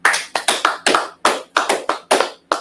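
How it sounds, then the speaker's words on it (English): A small crowd claps for a woman, producing loud, close, sharp hand claps in an uneven, slightly staggered rhythm with no talking over them. "Let's clap it up for her"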